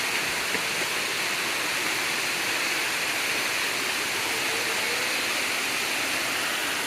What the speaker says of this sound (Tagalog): Ah, Kaparkan Falls